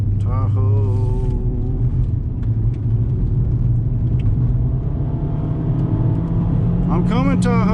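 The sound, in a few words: base model Honda Civic driving on gravel canyon road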